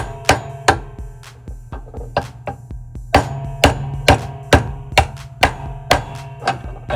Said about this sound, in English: You'll take your small hammer and you will strike it until it goes all the way through.